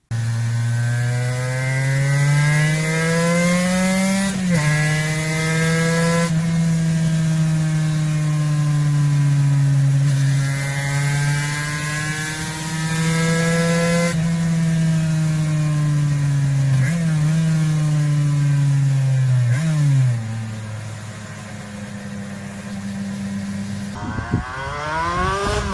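A road-legal Aprilia 250cc two-cylinder race bike of about 55 horsepower sings a loud, raspy engine note held at high revs, swelling and dipping through several throttle changes with sharp blips before cutting off near the end.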